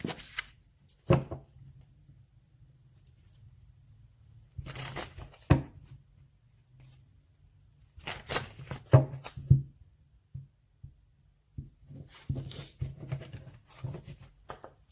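Tarot cards are shuffled by hand in several short bursts of close riffling and rustling, separated by quiet pauses.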